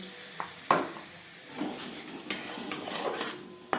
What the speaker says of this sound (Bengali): মশলার সাথে গুঁড়ো মশলা বেশ ভালো করে মিক্স করে দেবো